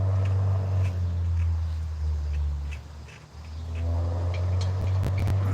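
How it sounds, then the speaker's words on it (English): A car with loud mufflers gives a close, deep, throbbing exhaust rumble that dips briefly in the middle, then swells again. "here comes the loud mufflers."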